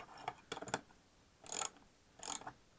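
A hand wrench tightens bolts on a Space One Orbit 250 quadcopter frame, giving a few short ratcheting clicks in separate bursts with quiet gaps between them, close and dry.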